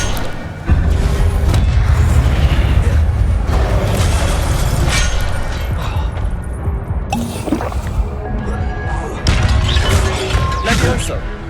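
Fire spell effects from the video game Hogwarts Legacy burst loudly with crashing, booming impacts over a dense battle din, while someone talks over the action.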